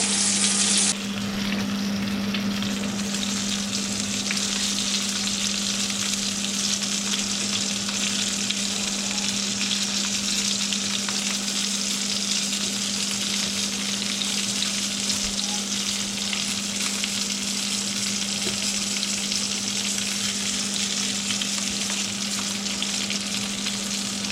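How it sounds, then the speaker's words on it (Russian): Battered burbot pieces frying in hot oil, a dense, loud, unbroken crackling sizzle that holds steady throughout with a faint low hum beneath it. "Обжариваем все со всех сторон."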